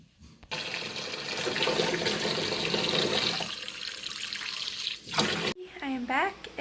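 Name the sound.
water running while rinsing tea out of hair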